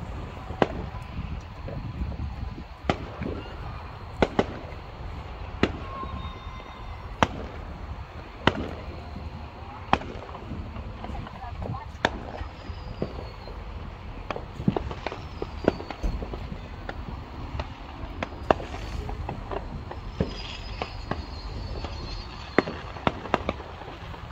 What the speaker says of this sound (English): I think it's an artillery shell.